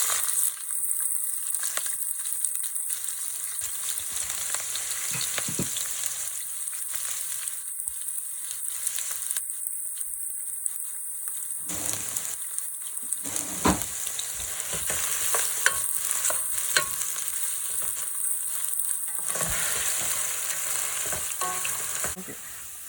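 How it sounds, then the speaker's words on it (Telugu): Onions and curry leaves frying in hot oil, a continuous close hiss and crackle with intermittent stirring scrapes and pops throughout, no voices. "ఆ ఆయిల్ వేడైన తర్వాత కరివేపాకు, ఇలా కట్ చేసుకున్న ఆనియన్స్ వేసుకొని ఫ్రై చేసుకోవాలి."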